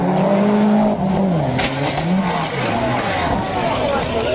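Cars in illegal high-speed street racing, an engine roaring and revving loudly with shifting pitch and a brief tire squeal, close and continuous.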